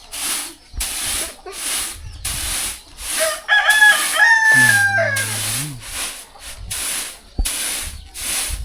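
A rooster crows once, loud and drawn out, amid chicken sounds in the morning air of a hill tribe village, framed by repeated short rhythmic bursts of noise.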